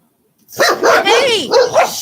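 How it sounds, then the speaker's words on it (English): Dogs bark at close range in a home: a rapid run of loud, yelping barks following one another with barely a pause. "dogs are barking outside"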